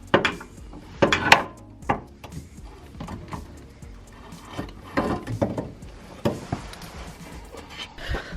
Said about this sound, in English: So I'm going to do that now and then just get rid of the stock sway bar out of here.